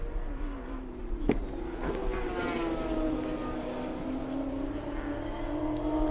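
A race car powers through turn 6 at Sydney Motorsport Park during a Shannons Trophy Series race, its engine note climbing steadily under throttle with a sharp click early on, heard at moderate distance beneath a constant background roar.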